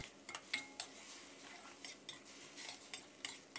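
Metal spatula scraping and clattering against a pan in quick, irregular strokes while stir-frying macaroni with vegetables, with a soft sizzle underneath; close and moderately loud, no talking.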